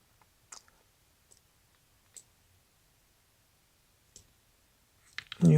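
Sparse, sharp computer mouse clicks, four or five single taps spaced a second or so apart in a quiet room, followed by a louder burst of handling noise at the end.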